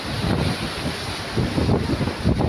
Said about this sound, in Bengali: পুরো ঢেউ, চুপুদুমে ঢেউ আসছে